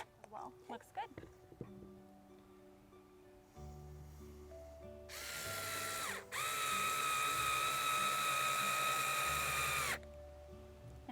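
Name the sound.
power drill attaching roof of a nest box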